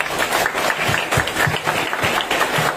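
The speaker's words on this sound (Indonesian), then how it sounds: "Tepuk tangan dulu dong." A crowd at an Indonesian Independence Day ceremony claps together, a steady wash of applause filling the space without a break, fairly loud and even throughout.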